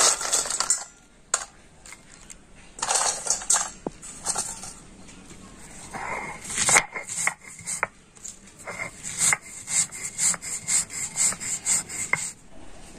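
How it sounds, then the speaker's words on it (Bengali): Biscuits being crushed on a shil-nora grinding stone, with repeated rough rubbing and grinding strokes, stone scraping against stone in bursts with short pauses, close and fairly loud, no speech. "আমি এই বিস্কুটগুলো সিলোরাতে গুঁড়ো করে নিচ্ছি"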